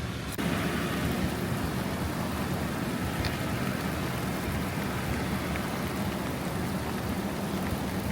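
Steady monsoon rain pours down on a mountain road to Toli Peer in Azad Kashmir, a dense, even hiss that fills the whole stretch without a break, with no voices over it.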